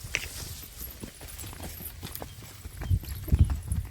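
A horse walks along with soft hooves clip-clopping in an uneven rhythm, faint at first and growing a little louder and heavier with a few closer thuds toward the end.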